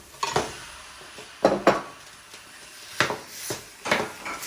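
Pork belly stir-fried in a pan for a five-spice palo stew, heard as about five separate bursts of utensil scraping and clattering against the pan over a faint background sizzle, with no talking.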